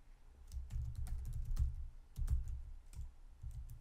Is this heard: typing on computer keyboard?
yes